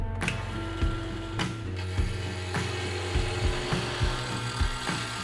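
A wood lathe turning wood runs with a low motor hum and a steady, repeating knock as the spinning piece thumps around roughly once per second.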